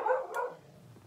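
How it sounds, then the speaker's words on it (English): A reactive dog barks a few short, sharp times at a distance from the microphone, with nobody speaking over it. "Is that dog again?"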